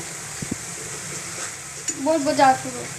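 Modak filling of jaggery with cardamom and nutmeg is sautéed in a pan, a soft steady sizzle with a couple of sharp utensil taps early on, and someone speaks briefly over it near the end.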